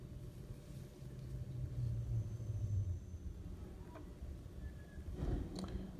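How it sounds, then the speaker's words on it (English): Low, steady engine rumble of a garbage truck outside, rising and falling gently with a brief clatter near the end. "My garbage truck just came in."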